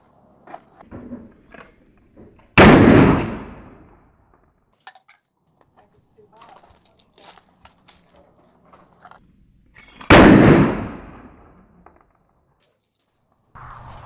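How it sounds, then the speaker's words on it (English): Two loud, sharp pistol shots at an outdoor range, spaced several seconds apart, each with a short decaying tail, amid faint handling clicks and near silence. "We're gonna do some target practice and see what we can get accomplished."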